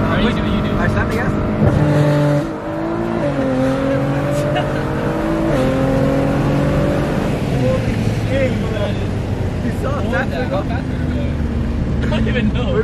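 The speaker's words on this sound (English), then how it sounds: "Alright, slam the gas." A Toyota Supra accelerates hard with the engine revving, rising harmonic pulls broken by quick gear changes, loud and sustained inside the cabin while occupants talk and laugh over the noise.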